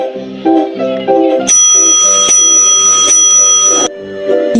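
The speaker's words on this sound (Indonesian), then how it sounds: "bel masuk pun berbunyi" A school entry bell ringing loudly and steadily for a couple of seconds, bright and metallic, with a tinkling melody before and after it.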